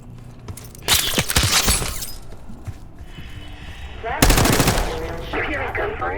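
In the Call of Duty Black Ops 6 shooter, two bursts of rapid automatic gunfire crackle with shattering, breaking debris, separated by quieter ambience and faint mechanical noise.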